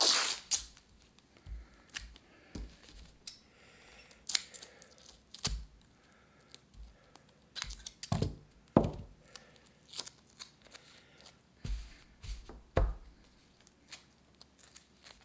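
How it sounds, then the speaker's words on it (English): Scissors snip and trim fabric for a homemade respirator mask made from office supplies, giving close, irregular cutting clicks and crunches with short pauses between them. "Cut your extras. Trim the sides."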